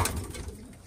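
Pigeons kept by a Turkish fancier, young birds not yet flown, cooing close by in a short burst of low, throaty coos with no voices over them.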